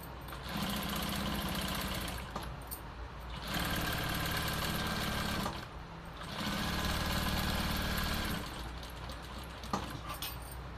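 A sewing machine stitching along the edge of a collar runs in three sustained, close humming bursts of a few seconds each, separated by short pauses, with no voices.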